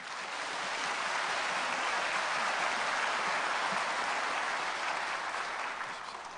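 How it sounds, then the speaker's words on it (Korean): A church congregation claps together during a Sunday service after an infant baptism, a dense, even wash of applause swelling in and holding steady before tapering slightly at the end. "축하의 박수 주시기 바랍니다."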